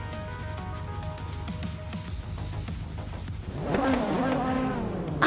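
GT1-class race cars at Atlanta Motorsports Park in an AI racing video game, engines droning and then rising into a louder, revving passage near the end, with a commentator talking over the early part.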